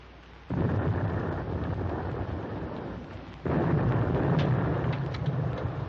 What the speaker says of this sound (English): Our escort must be dropping depth charges.